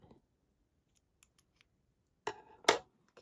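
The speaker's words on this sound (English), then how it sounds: "We're going to give them a snip." Scissors snip the thread tails of a homemade bracelet: a few faint light clicks, then two sharp, close cuts near the end in a quiet room.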